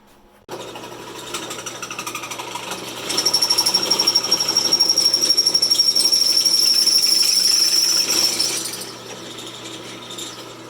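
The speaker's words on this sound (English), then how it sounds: "So let's get our hole drilled, get this mounted, and see what happens." Drilling a hole during a steering repair on a Power King 1618 tractor: a loud, steady motorized whine that starts abruptly, rises in intensity midway, holds with a high tonal squeal, then winds down.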